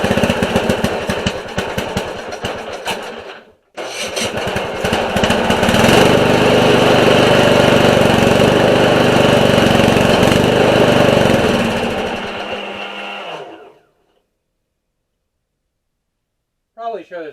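Small engine on an MTD lawn tractor, freshly cleaned carburetor, roars loudly after a short start and a brief dip, running rough and steady up close for several seconds before shutting off into silence, with a brief voice at the end.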